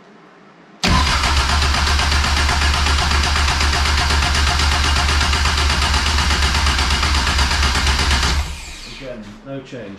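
A Caterham 420R engine cranks and catches, then runs loud and steady at idle for several seconds before cutting off, with people talking quietly afterward.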